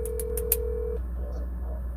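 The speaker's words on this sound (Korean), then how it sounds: "일단 또 전화하겠습니다" A telephone call being placed: four quick dialing beeps at the start, then a steady ringing tone for about a second over a low background hum, with no talking.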